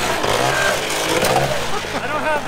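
The world's largest off-road wrecker truck runs nearby with a loud, rough engine rumble, and its drone continues steadily under wind-like noise and voices.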